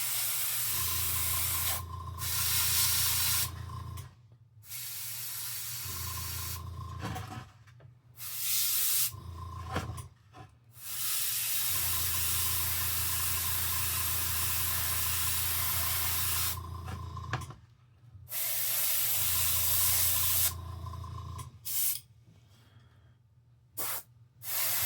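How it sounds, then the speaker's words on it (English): An Iwata airbrush sprays Seraphim Sepia shade in a series of hissing bursts of several seconds each, separated by short silent pauses, with a low compressor hum under each burst. "Now, the airbrush I'm using, it is Iwata."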